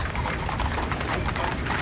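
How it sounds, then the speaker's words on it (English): Horses' hooves clip-clop steadily on pavement as they draw a funeral caisson in the 2004 state funeral procession for President Reagan in Washington, DC, a dense, continuous rhythm of many hoofbeats close by. "The tradition of having a horse-drawn caisson"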